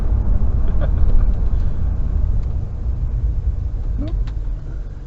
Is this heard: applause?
no